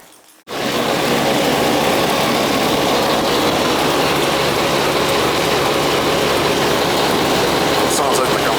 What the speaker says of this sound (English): Sounds like the compressor. Not good.